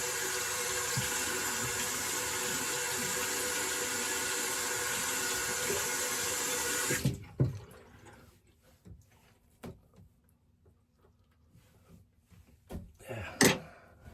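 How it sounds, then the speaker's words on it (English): Razor rinsed under a running bathroom tap, a steady close hiss of flowing water that cuts off halfway, followed by scattered small clicks and taps of the razor. "let me rinse real quick"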